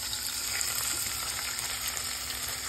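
Onion, ginger and garlic sautéing in a pan hiss with a steady, loud, dense sizzle as a little water meets the hot oil, continuous for a few seconds with no voices.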